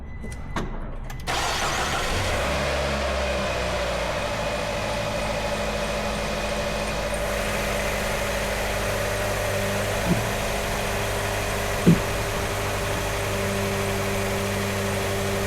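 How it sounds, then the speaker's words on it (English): Car engine cranks briefly and fires after a jump start from a YESPER X1 portable booster, then settles into a steady, close idle with a couple of faint clicks later on. "you have to press this button, boost, and then start the car."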